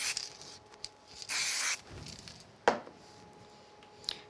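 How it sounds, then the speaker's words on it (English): Spray adhesive is applied onto a craft die in one short hissing burst of about half a second, close and fairly loud, surrounded by soft rustling, handling noises and a sharp tap. "I'm going to go ahead and spray this into place."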